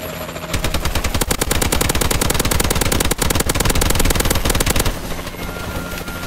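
Sustained machine gun fire aimed at a Goliath in a multiplayer shooter video game, a rapid loud continuous rattle of shots lasting several seconds before tapering to background battle noise.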